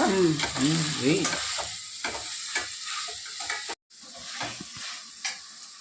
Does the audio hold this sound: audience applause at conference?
no